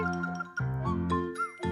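Main theme music from the video game Yoshi's Woolly World, a bright tinkling melody with chiming notes over a sustained backing, moderately loud, with no talking.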